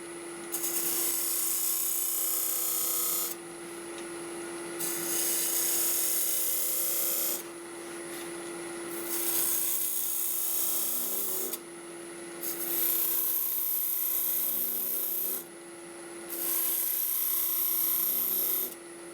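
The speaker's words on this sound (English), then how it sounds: "This is ash, very coarse grained, and it's given me a really nice cut." A wood lathe turns coarse-grained ash while a tool cuts it in several long strokes, a steady hum under bursts of rasping, close and fairly quiet with no talk.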